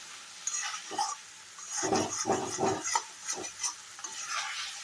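Boiled potatoes sautéing with ginger, tomato and green chilli paste in a pan, soft sizzling under bursts of stirring and scraping, close and moderate.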